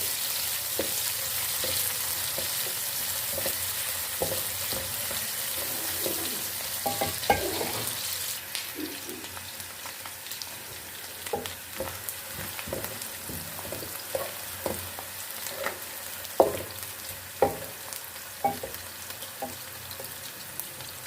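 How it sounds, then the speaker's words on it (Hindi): Onions browning in oil in a pan for Lahori murg cholay, a steady sizzle throughout broken by clicks and scrapes of stirring, with sharper knocks in the second half. "अब इसमें हम प्याज डालेंगे। प्याज को हमने ब्राउन कर लेना है।"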